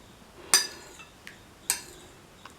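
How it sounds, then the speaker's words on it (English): Spoon clinking against a bowl while salt is mixed into curd: a few sharp, bright taps spaced roughly a second apart, close and fairly quiet, with no talking. "Mix the salt properly with the curd"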